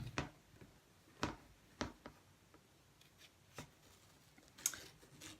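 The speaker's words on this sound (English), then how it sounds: "dragging the razor blade across right at the top of the frame and pulling the excess of the scarf away" A razor blade slices through scarf fabric during a craft project: a handful of short, sharp scratchy strokes at uneven intervals, close up and fairly quiet, with no talking.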